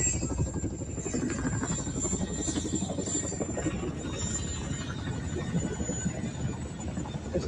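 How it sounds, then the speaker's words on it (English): A Chinook twin-rotor military helicopter flies overhead, its steady loud rotor and engine roar filling the whole stretch at an even level with no talk. "Check out this Chinook."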